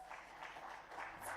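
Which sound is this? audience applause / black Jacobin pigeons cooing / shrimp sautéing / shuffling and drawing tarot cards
audience applause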